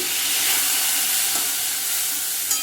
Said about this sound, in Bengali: আদা বাটা আর জিরে গুঁড়োটা একটু কষিয়ে নিচ্ছি